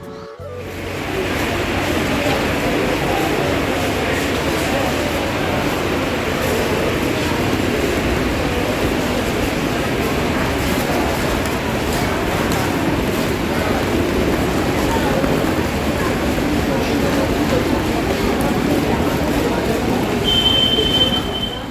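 Steady, loud wash of rain noise fills a railway station in Puri, with trains rumbling and wheels faintly squealing throughout, continuous from start to finish.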